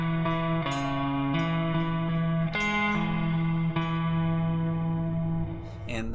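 A barred chord shape from a song on effects-laden electric guitar: several plucked note changes ring out over a steady low drone, shimmering with reverb and chorus, and it ends on a brief slide.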